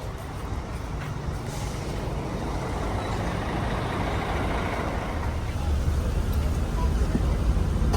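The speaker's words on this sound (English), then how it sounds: "At the bus station, we have a pretty old bus." An old bus idles at a bus station in Laos, its engine a steady low rumble with a brief hiss like an air brake near the start. Voices talk in the background.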